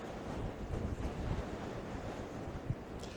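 Strong wind buffets the microphone beside crashing surf at Brixham in winter, a steady, rough roar of air and waves with no voices.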